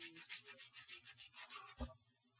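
Bamboo meat skewer being sanded into a phonograph fiber needle, giving rhythmic scraping strokes, about a dozen quick rubs close up, ending with a single soft thump.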